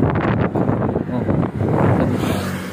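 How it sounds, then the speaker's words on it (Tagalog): Wind buffets the microphone in a continuous low rumble on a hot, sunny walk toward Córdoba, with a voice faintly audible underneath. "Pero may hangin naman."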